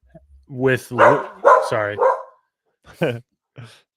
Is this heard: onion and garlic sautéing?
no